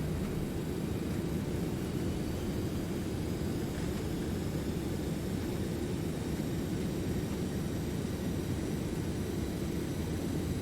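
Loud, steady broadband roar of a Douglas DC-8 airliner's thrust reversers and engines during landing rollout in a flight simulator, a continuous rushing wash with no breaks.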